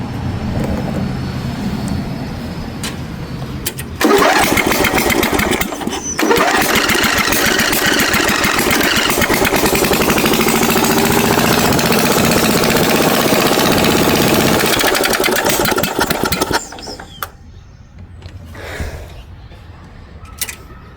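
A lawn mower engine roars loudly and steadily, sputtering briefly near the start, then cuts out and leaves quieter background noise.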